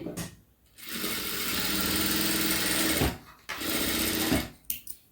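An electric sewing machine stitches a shoulder joint in two long, loud whirring runs separated by a brief pause, then ends with a few short bursts and clicks.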